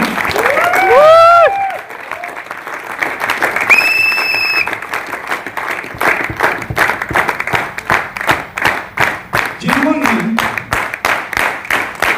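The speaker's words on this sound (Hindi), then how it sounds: "मैं आपसे शानदार तालियां चाहता हूं" A crowd breaks into loud, sustained applause, with rhythmic clapping that swells and continues for several seconds after a brief musical tone.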